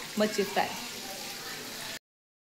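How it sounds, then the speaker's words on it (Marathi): Masala fish frying in a pan, a steady close sizzle for about two seconds, briefly overlapped by a couple of short voice sounds near the start, then cut to silence. "मच्छी फ्राय"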